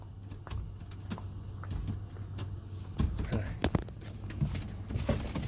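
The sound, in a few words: keys jangling while unlocking a 1977 Ford Mustang II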